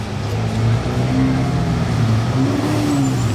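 Supercars in a slow traffic jam at Juan-les-Pins, engines rumbling steadily with rising revs and a couple of throttle swells, loud and close throughout.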